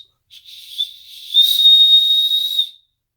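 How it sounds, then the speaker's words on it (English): A small whistle built into a ferro rod is blown: a brief short toot, then a longer, steady, shrill whistle with a breathy hiss, loud and close, with no talking. "there's a whistle built into the Ferro Rod"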